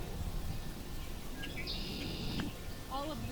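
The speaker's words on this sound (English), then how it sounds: "just listen to these birds" Birds sing along a green hiking trail in Boston, a thin sustained whistle and a few bright rising notes heard over a rumbling outdoor background, with a voice also present.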